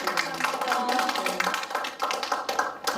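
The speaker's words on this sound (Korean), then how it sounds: "크게 박수 한번" A small group at an activists' workshop claps briskly, a close, busy flurry of overlapping hand claps with no pause over three seconds.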